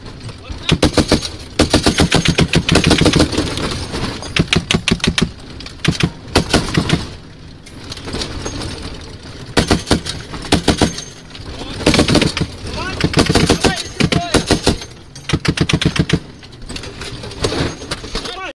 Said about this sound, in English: There's that finicky Ma Deuce. The 50 cal's jamming on them.